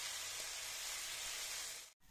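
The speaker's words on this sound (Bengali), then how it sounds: "শুকনো লঙ্কাটা ভেজে নেব।" Dried red chillies fry in a pan with a faint, steady sizzle and hiss that holds evenly, broken by a brief dropout near the end; no voices are heard.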